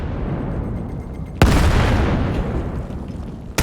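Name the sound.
grenade explosions in Vail video game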